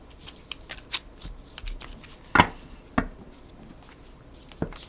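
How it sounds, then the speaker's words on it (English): A thick deck of cards being shuffled close up, a scatter of soft riffles and sharp snaps, with a few louder slaps of the deck. "it's kind of a thicker deck, they are super easy to shuffle this way"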